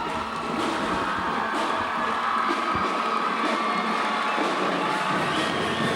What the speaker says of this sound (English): They're even getting a nice round of applause from the south side.